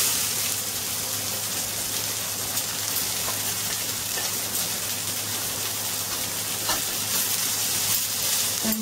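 Beets with salt, turmeric, vegetable masala, garam masala and cilantro sautéing with onion in a pan, giving a steady close sizzle with scattered soft crackles throughout, no talking.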